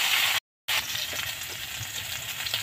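Steady sizzle of frying in a pan while cooking a fish curry with bitter gourd, a constant hiss broken by a brief silent gap, with no talking.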